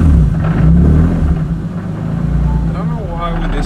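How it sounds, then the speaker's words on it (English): A BMW E36 engine revs briefly up close and then settles toward a rough idle, with a person speaking over the motor. "I have to like sometimes rev it a little bit and then it'll idle after that."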